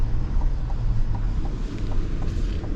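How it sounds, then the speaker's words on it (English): The diesel engine of a 2026 GMC Yukon AT4 XL SUV runs smoothly, heard from inside as a low, steady droning hum mixed with wind and road noise, with no talk. "Man, this diesel is smooth."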